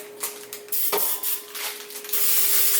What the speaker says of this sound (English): A little bit of cooking spray